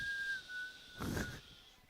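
A referee's whistle at a junior varsity hockey game gives one faint, steady tone that trails off. A short burst of broadband rink noise rises over it near the middle of the clip.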